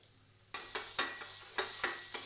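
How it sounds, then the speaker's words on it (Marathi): Ginger-garlic paste and ground cumin sauté in a pan, starting with a sudden sizzle, then several scraping stirs and light clinks of a spatula against the metal, close and clear. "आलं लसूण पेस्ट जिरे वाटून परतून घ्यायचं आहे"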